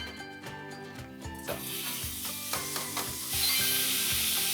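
Pork sizzling in a wok over high heat for twice-cooked pork with spring cabbage, a hissing fry that swells louder toward the end, under steady background music with no talk.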